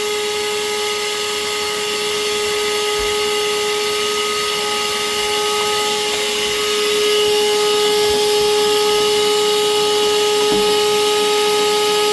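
A steady, loud motor whine with a constant drone runs throughout from a vacuum cleaner cleaning a GE Profile washer/dryer combo, with a few faint clicks and bumps.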